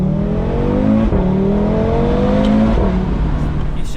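Audi RS3 engine pulling hard under acceleration, a loud, steady rising drone with climbing engine tones, a brief dip near one second as a gear changes, then revs building again close up.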